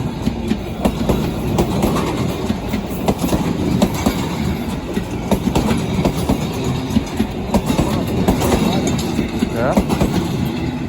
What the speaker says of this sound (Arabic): اقسم بالله اول مره اشوف قطر